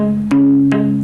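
Guitar playing a riff, two plucked notes ringing out in succession with sustained harmonic tone, clear and close with no talking.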